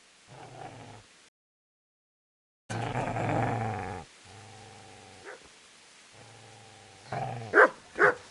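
A dog growls in several low, rumbling bursts with short pauses between them, fairly close, ending in a couple of sharper barks.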